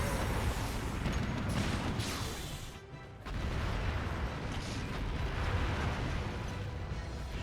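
Blast ammo fired from a bowgun in Monster Hunter Generations Ultimate sets off dense, rumbling explosions. The roar is loud and continuous, with a brief dip partway through, and no one speaks.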